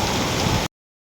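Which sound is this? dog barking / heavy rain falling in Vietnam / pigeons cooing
heavy rain falling in Vietnam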